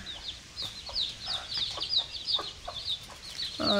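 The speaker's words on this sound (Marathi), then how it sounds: "ती जी कोंबडी आहे ती पिल्लांना खाली घेऊन बसली." Hens cluck softly close by while chicks peep in high, rapid chirps around them, a steady busy chatter of fowl with a louder burst near the end.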